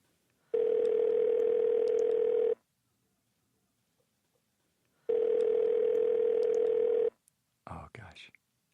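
Two steady telephone dial tones, each about two seconds long and separated by silence, heard while calling someone from a podcast studio, followed by a brief burst of clicks or handling noise.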